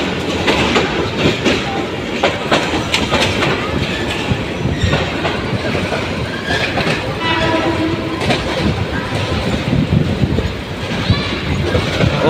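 A passenger train heading toward Kamalapur in Dhaka on the Padma Bridge rail route rumbles loudly and continuously from inside the carriage, with steady wheel clatter and occasional voices underneath.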